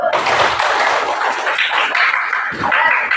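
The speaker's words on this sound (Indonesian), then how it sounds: "Tepuk tangan dulu." Schoolchildren in a classroom clap their hands together, a close, bright burst of rapid clapping that holds steady for a few seconds.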